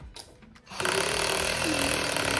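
A power drill, used while setting up a homeschool room, starts up after a moment of quiet and then runs at a steady, loud, high-pitched whir without stopping.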